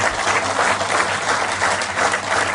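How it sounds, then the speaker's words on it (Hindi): An audience at a BJP office gathering in Bhopal claps steadily, a dense, even burst of applause that holds at moderate loudness for a couple of seconds. "जोर से एक बार इनके लिए भी ताली बजा।"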